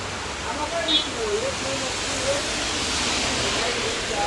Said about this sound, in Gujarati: વરસાદ વધી ગયો છે અત્યારે અહીં ઊભા છે